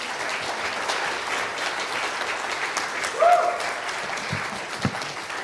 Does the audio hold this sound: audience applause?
yes